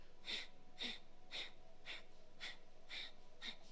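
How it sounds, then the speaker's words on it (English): Rhythmic yoga breath of fire: seven sharp, evenly spaced nasal exhalations about half a second apart, close and fairly soft, with no talking. "let's just start to get into the rhythm of the breath of fire"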